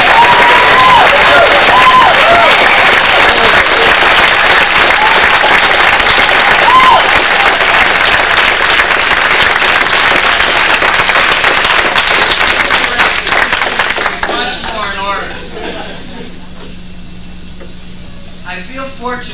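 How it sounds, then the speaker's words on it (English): A reunion gathering of SDS members gives a loud, sustained round of applause for Abbie Hoffman. Voices sound over the dense clapping before it thins out and fades toward the end. "I'd like to ask that we all give Abbie Hoffman, because of what he did with his life, a round of applause"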